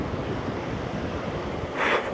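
Steady broadband wind noise rushes across the microphone, fairly faint, swelling into a brief louder gust near the end, outdoors at the Three Sisters, Glencoe, Scotland.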